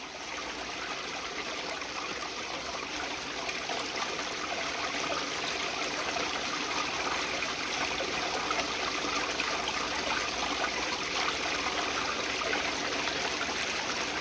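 Water pours steadily through an aftermarket sluice box loaded with material, a continuous close rushing and trickling flow at even loudness with no voices.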